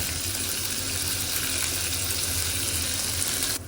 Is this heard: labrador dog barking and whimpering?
no